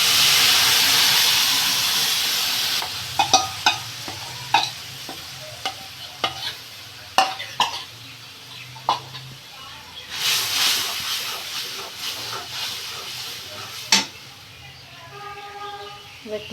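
Mustard paste added to black cumin in hot oil in a pan, giving a loud burst of hissing sizzle that settles into a softer fry, broken by sharp spoon clicks and scrapes as it is stirred.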